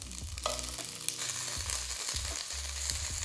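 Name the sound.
zucchini and vegan chorizo browning in oil in a pan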